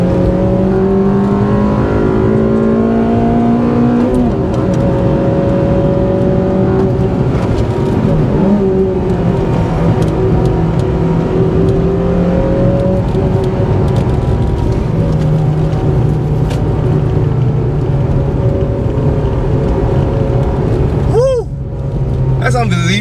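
A Honda Civic Type R FD2 drives hard along the Ashinoko Skyline mountain road, its engine droning and revving loudly through corners with shifting pitch, heard from inside the car throughout.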